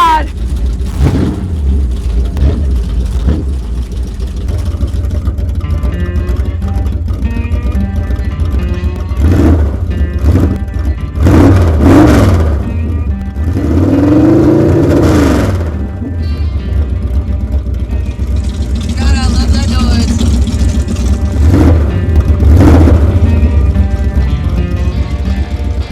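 A muscle car's engine revs repeatedly nearby, rising and falling in a deep rumbling roar with several sharp throttle blips, while excited voices talk and exclaim over it.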